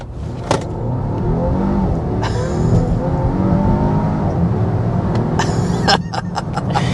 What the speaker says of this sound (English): we need to start with a hard acceleration